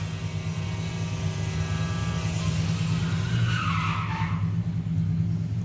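A VW Beetle drag racing car at Bug Jam roars past with a loud, steady engine drone, the pitch rising and a tyre-like squeal sweeping through near the end.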